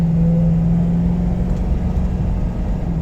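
A 2008 Ford Crown Victoria Police Interceptor on a short road test, its engine giving a steady low rumble and whir as it drives through the gears, close and continuous with no talk.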